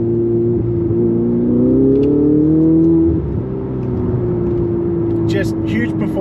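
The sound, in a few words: Ferrari 488 GTB engine accelerating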